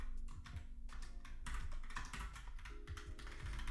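Typing on a Moonlander computer keyboard, a steady stream of quick key clicks throughout, fairly faint and with no talk.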